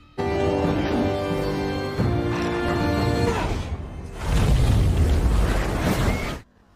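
A monster blowing apart into several pieces in an action film, heard as a sustained loud roar with a deep, rumbling burst swelling near the end before cutting off abruptly, layered over a dramatic musical score.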